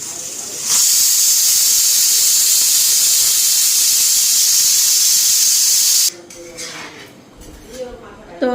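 Meat left from the previous day being reheated in a kadai: a loud, steady hiss of steam runs for about five seconds, then cuts off into quieter clatter with voices.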